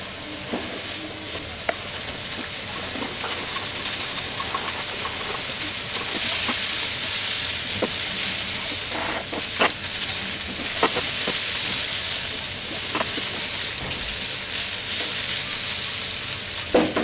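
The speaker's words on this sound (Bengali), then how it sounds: "জালটাকে একটু বাড়ায় দিই বেশ একটু ভুনা ভুনা হোক" Dried loitta (Bombay duck) shutki stir-fried in a pan over a raised flame makes a steady close sizzle that grows louder midway, with occasional scraping and clinking from stirring and no talking.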